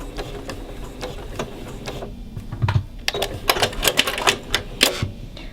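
A sewing machine runs a lock stitch on a mitered quilt binding in short bursts of sharp, rapid mechanical clatter, pausing briefly between runs, close and clear with no talking.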